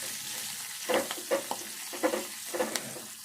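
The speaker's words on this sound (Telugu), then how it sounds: "కరివేపాకు వేసుకోవాలి ఒకటి. కొంచెం పసుపు వేసుకోవాలి. ఇదంతా కూడా కొంచెం వేగాలి," Curry leaves and turmeric frying in hot tempering oil for a sesame chutney made with bottle gourd peel, giving a soft steady sizzle with a few louder spitting bursts and stirring clatters, close by, with no talk.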